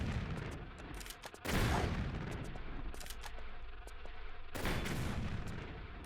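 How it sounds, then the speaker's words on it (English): A rocket launcher fires at a mutant in Tomb Raider 3's Lost City of Tinnos, with two loud, sharp blasts about three seconds apart, each followed by a booming tail, over steady game ambience and scattered short clicks. "I'll just try to use the rocket launcher on it"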